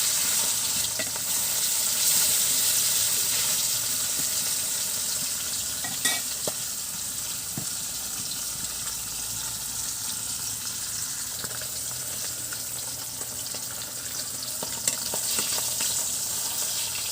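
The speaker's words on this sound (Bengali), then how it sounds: "এখন মাছটা ভেজে নেব।" Fish frying in a pan, a continuous hissing sizzle of hot oil holding steady throughout, close and fairly loud, with occasional faint clinks and a brief watery splash.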